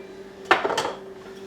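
Kitchen cups and glasses being handled, giving a sharp clink followed by a few lighter knocks and rattles, close and fairly loud in an otherwise quiet room.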